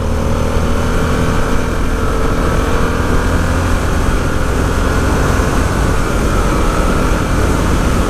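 Riding a Harley-Davidson Sportster S motorcycle produces a loud, constant engine drone blended with wind rush, steady throughout with no speech.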